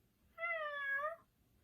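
A voice imitating a kitten, producing a single clear, drawn-out meow about a second long, alone and fairly faint.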